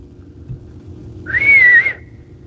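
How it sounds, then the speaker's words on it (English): A single clear whistle from a person outdoors at night in Portage County, Ohio, a short sustained tone that wavers slightly in pitch, rising out of quiet low background hum and fading after about half a second. "I'm gonna whistle."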